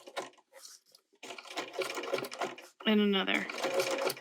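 A domestic sewing machine stitches a small fabric gift tag in short bursts with pauses as the presser foot is lifted and the fabric pivoted, producing a close, steady mechanical whir, with someone speaking between and over the stitching.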